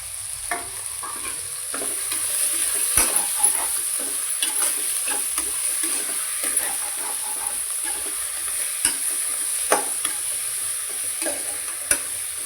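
Ingredients for soya biryani, with mint and coriander added, sizzle steadily in a pan, a constant hiss punctuated by occasional pops and spoon scrapes, with no talking.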